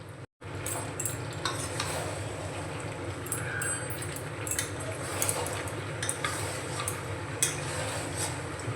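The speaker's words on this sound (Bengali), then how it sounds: "এ রাখা আলু আর ক্যাপসিকাম দিয়ে আমি আরও দু মিনিট মতো কষিয়ে নেব" Chicken with fried potato and capsicum is sautéed in a pan, giving a soft steady sizzle with scattered scraping and clinks from a utensil, close but fairly quiet, after a brief click at the start.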